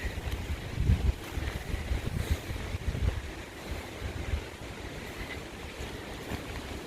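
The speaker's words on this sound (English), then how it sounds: "you can hear the gentle breeze" Gusty wind blowing over a wetland and bog in the UK, a low rumbling rush that swells and buffets against the microphone, steady and fairly quiet with no voices.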